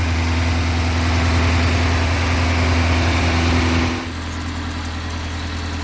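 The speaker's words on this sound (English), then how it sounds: "Got the new carburetor on. It's running a lot smoother. It's on the high idle." A Chevrolet Chevette engine with a new carburetor idles steadily up close on high idle, a constant humming drone that drops to a lower, quieter idle near the end.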